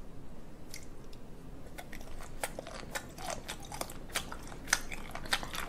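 Close, wet chewing of sea cucumber, with repeated crunchy, squishy bites in an irregular rhythm that grows busier after the first second or two, heard alone without talk.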